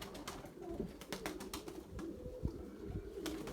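Pigeons coo softly outdoors in a low, repeated, murmuring call, faint and somewhat distant, with a few light clicks and rustles scattered through.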